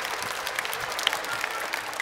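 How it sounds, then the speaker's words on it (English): An audience at a summer community singing event in Selby claps for a children's song, a short steady patter of applause at moderate distance. "Give them a round of applause."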